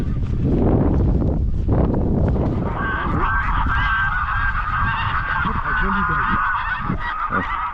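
Greylag geese honking loudly during a hunt outdoors, several nasal calls overlapping in a sustained chorus, with wind rumble and brief low voices at the start.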